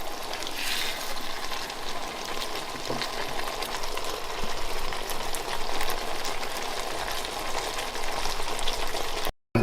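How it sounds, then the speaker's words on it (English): Spaghetti simmering in a pan, a steady close bubbling and sizzling hiss that runs continuously before stopping abruptly. "pasta takes around about 8 minutes to cook in the pan"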